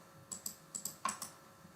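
Mouse clicks on a computer in an Excel spreadsheet, six sharp, close clicks spaced irregularly over under two seconds, quiet with no talking.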